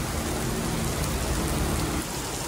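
Heavy rain pours down steadily, a dense, constant hiss of drops with low rumbling underneath, no voices.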